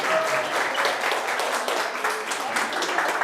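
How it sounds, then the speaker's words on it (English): A dense, steady round of applause fills the room from an audience at a 2024 mortgage and mimosas event, with many hands clapping at once, close and fairly loud throughout. "So I want you guys to get up and give yourselves a round of applause."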